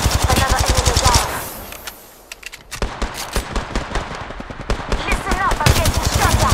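Automatic gunfire in Apex Legends, with long bursts of rapid shots interrupted by a brief lull, then more close, loud volleys under game voice callouts.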